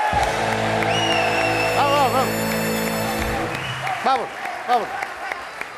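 A studio audience applauds on a Galician television game show, with steady clapping and cheering under music and loud voices throughout.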